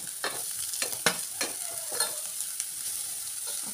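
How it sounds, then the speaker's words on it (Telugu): A spoon stirs grated carrot through onion oil and turmeric in a pan for carrot paratha, giving irregular close scrapes and clacks over a steady, soft sizzle. "ఇంకా క్యారెట్, ఈ ఆనియన్ ఆయిల్ కలిపేటట్టు కలుపుకోవాలి బాగా"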